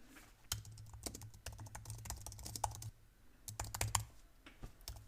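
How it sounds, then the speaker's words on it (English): Rapid typing on a computer keyboard while editing a file in the vim text editor, a quiet stream of close, crisp key clicks with a brief pause midway before the clicking resumes. "now you can actually start typing stuff"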